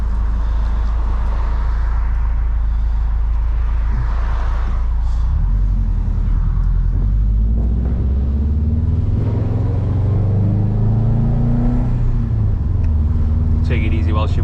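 A Subaru WRX STI on Fortune Auto coilovers drives along with a loud low engine rumble that rises and falls as it moves through the gears, heard from inside the car under talking.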